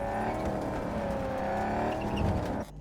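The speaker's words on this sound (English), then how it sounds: "the car noise is a little bit loud" Car engine in the video game Cyberpunk 2077, a loud, steady, close hum holding a constant pitch with slight wavering, cutting off abruptly at the end.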